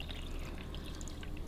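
Water is poured into the reservoir of a Buydeem steamer in a steady, close trickle and splash that stays even throughout the short pour, with no talking.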